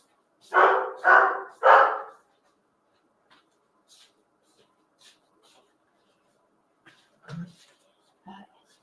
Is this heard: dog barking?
yes